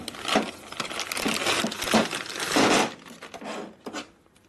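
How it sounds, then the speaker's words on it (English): Homemade grinding tool, built from Harley panhead rocker arm assemblies, grinding rocker arms for a 1950 panhead: close, loud rasping and rubbing strokes in irregular bursts that fade out toward the end. "So now we have to go and grind these."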